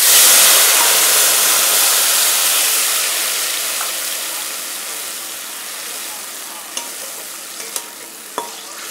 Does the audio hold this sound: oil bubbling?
yes